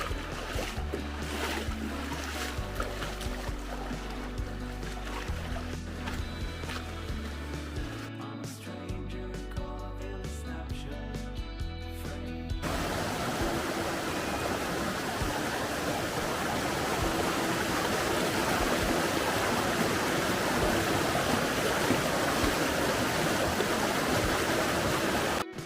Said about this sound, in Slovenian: Gremo kar po vodi gor.